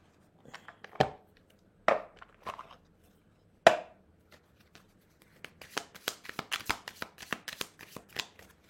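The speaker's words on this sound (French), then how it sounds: "On va mixer les cartes." Playing cards are shuffled by hand close up: a few scattered riffles and taps at first, then a dense run of rapid ruffling snaps that stops and starts.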